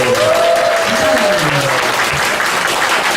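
A church congregation breaks into loud, dense applause during a Sunday service, clapping sustained and close. A voice rises briefly over the clapping near the start.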